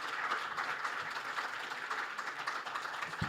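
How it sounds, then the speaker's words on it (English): Audience applause for panelists at a seminar on small modular reactors for clean energy, a steady moderate wash of clapping from a room of people that holds even throughout, with no talk over it. "Please give a big round of applause."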